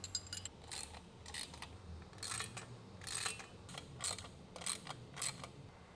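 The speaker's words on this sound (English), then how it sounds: "we're gonna use our tools here, we're gonna tighten them down." Ratchet wrench clicking in short bursts as bolts are tightened with hand tools on a wall-mounted cable station frame, close and fairly quiet, with brief pauses between strokes.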